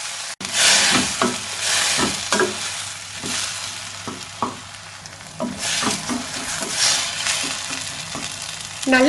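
Tomatoes and a small piece of tamarind sautéing in a pan for Chettinad kara chutney, with a steady loud sizzle and repeated scraping stirs of a spoon throughout, no voices.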